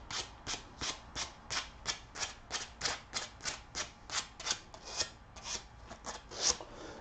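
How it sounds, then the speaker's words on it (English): Hand sanding of a red oak live edge bowl, a steady back-and-forth rasp of sandpaper on wood, with about twenty even strokes in a close, quiet rhythm. "let me get a little piece of sandpaper"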